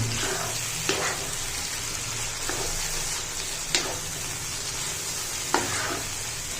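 Garlic ginger paste and thick-cut green chilies frying in oil for a chicken and cabbage dish, a constant loud sizzle with a few sharp scrapes of the stirring spoon against the pot.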